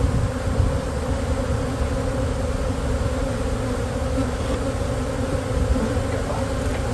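Honeybees swarm around a farm hive entrance in a dense, steady buzzing drone that stays loud and close throughout, with no voices.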